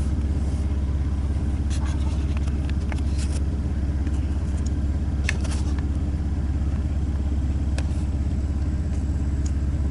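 A car engine idles steadily with a camshaft position sensor A bank 1 fault (code P0340), a constant low rumble close by, with scattered faint clicks and knocks over it and no talking.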